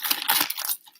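Scissors cut through plastic cream wrap up close in a kitchen, a brief crinkly, crunchy snip lasting under a second before quieting.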